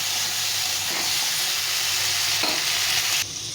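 Potato and taro pieces fry in oil with salt and turmeric, a continuous loud sizzle broken by a few stirring scrapes and shifts in the hiss.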